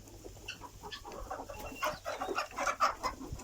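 Several chickens cluck and chatter close by in short, overlapping calls as they feed in the morning at a henhouse, with the low murmur of an outdoor space underneath.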